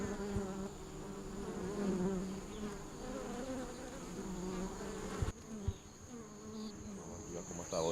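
Honeybees buzz steadily around a beekeeper's hive in Guadeloupe, a dense, continuous close-up drone with a few soft knocks near the end and no talking.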